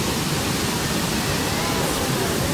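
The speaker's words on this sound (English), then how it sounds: "And there's another waterfall where you can even go into and be near it." A waterfall at a pretty spot in Greece pours with a steady, dense rushing hiss that holds at an even level throughout, with no breaks and no voices.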